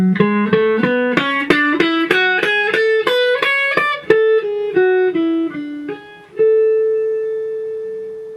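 Guitar phrase of plucked single notes climbing in a steady rising line and growing louder, then stepping back down and softening before ending on one sustained note.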